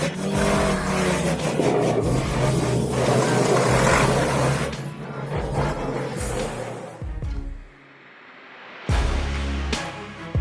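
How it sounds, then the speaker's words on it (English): A concrete mixer truck's engine revs hard in a loud, close roar that rises and falls several times, drops away briefly, then comes surging back, with no voices. "revving up a concrete mixer"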